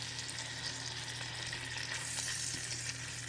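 Chicken pieces sizzle and fry in a hot pan, a steady close crackling hiss that runs unbroken with no voices.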